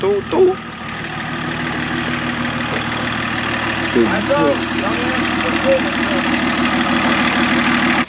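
A BMW E34 TDS diesel engine runs steadily just after starting, a close, continuous idle with a low rumble, while people talk over it.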